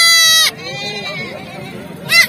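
Young goats bleat loudly at a roadside goat market in Jaswantnagar, Etawah, with two strong, wavering cries close by and someone talking in between.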